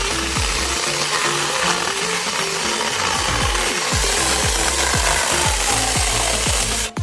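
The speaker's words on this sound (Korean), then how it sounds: "자, 좀 더 잘라볼게요. 지금 이게 톱의 만족도가 굉장히 좋습니다." An electric chainsaw cuts through firewood logs with a loud, continuous, rough buzzing drone that holds steady close by for several seconds.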